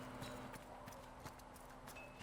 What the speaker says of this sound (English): That is a zombie horse. It doesn't even have eyes.